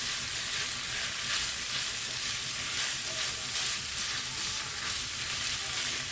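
Keema sizzles and fries steadily in a pan, a dense continuous hiss with faint stirring scrapes, close and even throughout with no one speaking.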